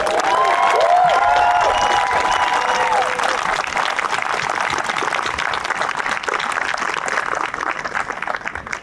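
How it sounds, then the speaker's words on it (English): A graduation crowd at the 2023 Pathfinder Tech ceremony breaks into loud, dense applause that holds steady and eases slightly toward the end, with a voice briefly heard over it at the start. "Let's give a big round of applause."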